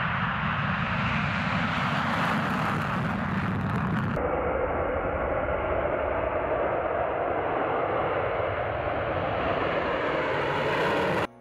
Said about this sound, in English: The Tupolev Tu-22M3 bomber plane by Russia has been seen taking off from a runway in the Irkutsk